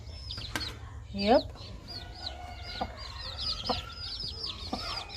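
Backyard chickens cluck and chirp in scattered, short calls at moderate distance, over faint background noise, with a brief word from a person.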